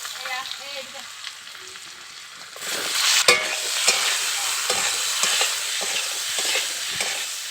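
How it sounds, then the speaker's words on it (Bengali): Cut potatoes fry in hot oil in a pan while a crab curry is being cooked, a soft sizzle at first that jumps louder partway through and then hisses steadily with scattered crackles and stirring scrapes, no voices. "এখন আলুগুলোকে একটু ভেজে নেব"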